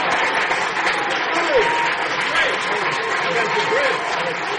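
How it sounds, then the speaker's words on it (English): Crowd applause during a PechaKucha talk in San Antonio, a dense, even patter of clapping throughout, with voices talking and cheering faintly underneath. "it's great to see architecture get applause right there when it shows up"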